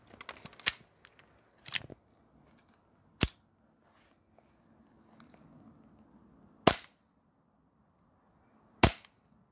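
An SSP5 airsoft pistol fired through a chronograph, with five sharp isolated snapping shots spaced a second or two apart against near silence and faint handling noise between them.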